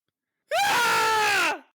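A single loud, sustained human scream, mimicking the horror film Scream, lasting about a second at full intensity before cutting off, with no other sound around it.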